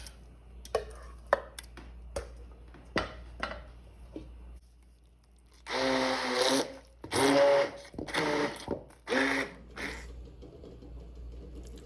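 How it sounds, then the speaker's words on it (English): A kitchen blender runs a second time through leftover Andalusian-style gazpacho pulp. A few sharp clicks and knocks come first, then loud, close motor bursts pulse on and off several times. "I'm going to give it a second blend and see what more liquid I can extract."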